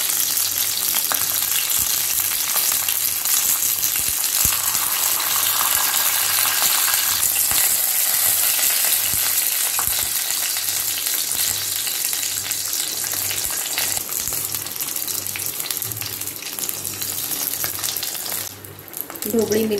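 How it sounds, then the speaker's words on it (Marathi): Bell peppers (capsicum) searing in a pan for stuffed peppers, a continuous close crackling sizzle throughout with occasional small clinks and turning sounds, fading briefly near the end. "आता है शिमला मिर्च मी परतून घेत आहे. सर्व बाजून मी ती भाजून घ्यायची व्यवस्थित."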